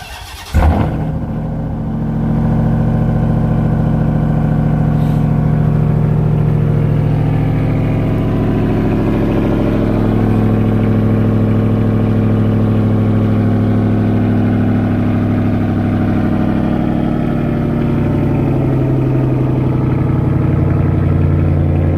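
Ram TRX pickup truck engine cold-starting with a sharp crank and roar, then settling into a steady, loud, deep idle that holds for about twenty seconds with no talking.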